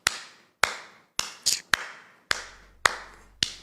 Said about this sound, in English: Me always they clap for them like this.